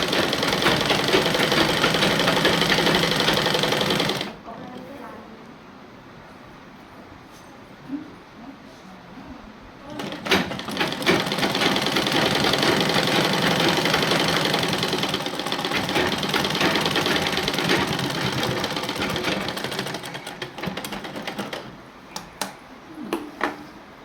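A sewing machine stitches a dress along the fitting line, whirring loudly in a run that stops after a few seconds, then, after a quiet stretch, restarts for a longer burst ending in short stops and starts.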